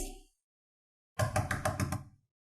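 Knocking on a door in a domestic drama scene: a burst of about six firm, evenly spaced raps, loud and close, after a short faint sound and silence, with no talk over it.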